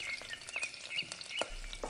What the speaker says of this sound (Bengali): কালটুর মা চুলোতে মাছ ভাজছে।